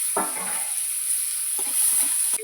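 Chopped onion, chopped tomato and ginger-garlic paste go into a hot pan, producing a constant bright hiss of frying punctuated by a few soft stirring clatters.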